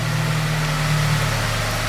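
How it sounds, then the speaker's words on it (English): A 2002 Honda Civic Si idles with the hood down, giving a steady, even low hum with a faint whine, constant and close throughout. "All right, it starts right up every time."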